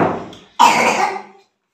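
A child coughs once, a single sharp, loud burst close to the mic that decays over about a second after a brief fading sound, then silence.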